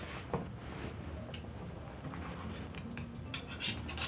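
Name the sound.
knife cutting pineapple into small pieces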